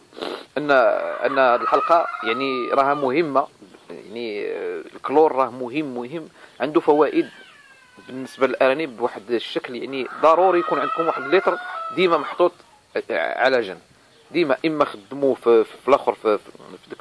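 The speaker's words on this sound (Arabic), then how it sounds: "كنعتذر على الصوت ديال المقاقيه ديال الدجاج، لان وقيتهم هذه باش كيوضعوا البيض" Hens at laying time cluck and cackle repeatedly in the background of a rabbit-keeping space, rising in bursts under someone speaking Arabic almost throughout.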